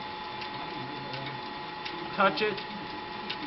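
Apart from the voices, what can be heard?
lathe running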